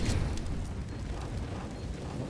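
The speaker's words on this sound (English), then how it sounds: "Incendiary to the back of the site" An incendiary grenade bursts into flame at the back of a bomb site in CS:GO on the Cache map, giving a loud, rough whoosh that settles into a steady crackling roar.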